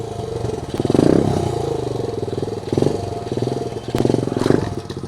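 A repaired dirt bike engine runs close by, chugging at idle with a few brief revs that rise and fall, loud and clear with no talk.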